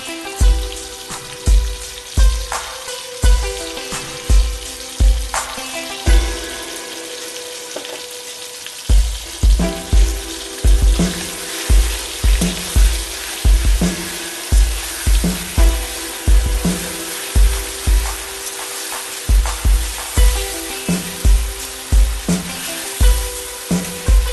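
Ginger, garlic and chili paste frying in a hot pan while being stirred, with a steady sizzle broken by regular sharp scraping knocks of a spatula, loud and close, with no talking.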